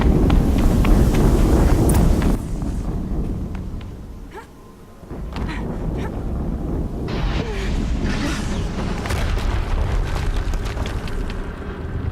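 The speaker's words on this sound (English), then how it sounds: "Another explosion." Explosion in the video game Horizon Zero Dawn: a loud, dense roaring rumble that cuts off sharply, dips briefly, then gives way to a sustained din with scattered crackling debris.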